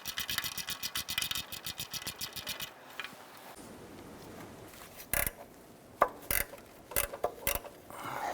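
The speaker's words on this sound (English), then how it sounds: "I'm going to use our 1/4 inch ratchet to go ahead and get this bolt here" A 1/4 inch ratchet loosening an oil pan bolt on a 1993-1997 Ford Ranger, fast steady ratcheting clicks close up for a few seconds, followed by separate metallic clacks and scrapes as the tool shifts.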